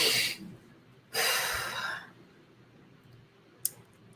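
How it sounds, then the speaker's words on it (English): Two deep breaths, a brief inhale and then a longer, airy exhale, sound close and soft in a quiet room, followed by a small click. "take a moment, like we always do, and just take a deep breath"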